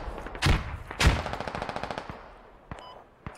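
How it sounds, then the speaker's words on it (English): Fragmentation rounds fired in the video game Squad: two sharp, loud blasts followed by a rapid rattling burst of shots that trails off, then a couple of fainter distant pops. "I'm shooting some fragmentation to them"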